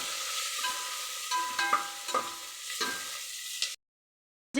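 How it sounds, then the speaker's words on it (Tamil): Jeera rice base frying in a pan with a pinch of salt, a steady close sizzle broken by a few soft stirring scrapes, ending abruptly in silence. "கொஞ்சம் சீக்கிரம் ஃப்ரை ஆகணுன்றதுக்காக கொஞ்சம் சால்ட் சேர்த்துக்கிறேன்"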